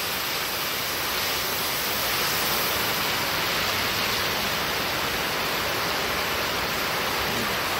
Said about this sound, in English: the garlic are already frying up. They've got the oil hot